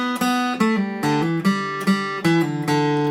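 A guitar plays a section of a song as a lesson demonstration, with a handful of plucked notes ringing out one after another, close and clear with no talking.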